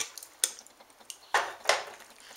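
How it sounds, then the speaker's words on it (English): Several sharp metallic clinks and scrapes, a spoon scooping cheese sauce off the bottom of a pot of gluten-free mac and cheese, sounding close and irregular with quiet gaps between strokes. "I'm going to scoop out some of the cheese that rested on the bottom"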